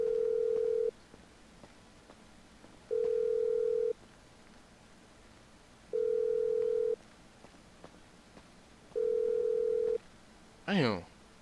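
Ringback of an outgoing phone call in GTA Online, a steady one-second tone repeating four times at even three-second gaps, clean and fairly quiet, followed by a brief clatter as the call connects.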